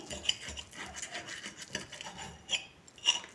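Knife rasps and scrapes through a crisp fried potato pancake with cheese filling, a few scratchy strokes with sharper crunches near the end, close and fairly quiet.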